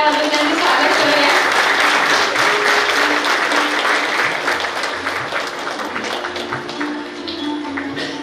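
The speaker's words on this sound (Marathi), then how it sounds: "आपण एकदा जोरदार टाळ्या वाजवून त्यांचे स्वागत करूया" An audience at a student event claps hard to welcome a guest speaker. The loud, sustained applause near the microphone slowly tapers off, with a low musical tone and some voices underneath.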